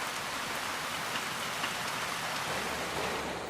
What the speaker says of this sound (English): the rain and flash flooding we saw here